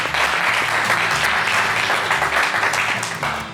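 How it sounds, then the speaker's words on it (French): Sustained applause from a studio audience on a Cameroonian game show, loud and dense throughout, tapering off slightly at the end. "Ça s'applaudit."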